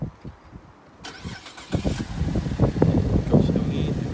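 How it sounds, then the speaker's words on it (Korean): Cadillac CTS 3.0 engine starting by remote start, a crank that catches and settles into a rumbling idle after a click, heard at moderate distance with a person speaking over it. "원격 시동이 됩니다."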